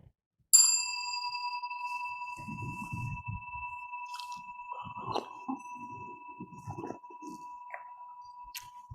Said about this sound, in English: ring that bell every 10 minutes